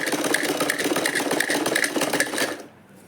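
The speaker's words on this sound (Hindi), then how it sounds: "और दोनों साइड से ऐसे फोल्ड करेंगे और हम इसको सिल लेंगे।" Sewing machine stitching along a folded fabric strip for a homemade side purse, a steady rapid mechanical whir with fast rhythmic needle clatter that runs loud and close, then stops abruptly near the end.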